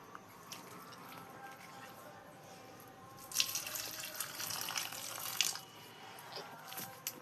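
Water runs and splashes while plants are watered, a soft steady trickle that swells louder and gushier midway, heard faintly at a distance with some background voice.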